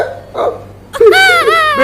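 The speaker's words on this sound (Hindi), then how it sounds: "मुझे हिचकी आ रही, रुकी नहीं है" Two sharp hiccups from an elderly man at night, the first short and soft, the second louder and followed by a strained, wavering vocal sound, close and otherwise quiet.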